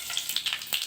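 Mustard seeds crackle and sizzle in hot oil in a cooking pan, quick bright pops over a steady frying hiss, close and brief.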